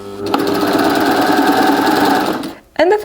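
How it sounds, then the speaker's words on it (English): A serger sewing machine stitching knit binding on a dress top runs in one loud, steady mechanical whir for about two and a half seconds, then stops abruptly, followed by a brief clack. "I'm just going to serge"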